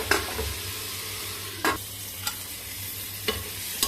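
Onions and tomatoes cooking on low heat being stirred, a gentle continuous sizzle broken by several distinct spoon scrapes and taps against the pan, close and clear with no voices.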